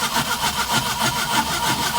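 A 1981 Mercury Capri engine idles roughly nearby, a steady hoarse drone pulsing with uneven, lumpy beats and no voices over it.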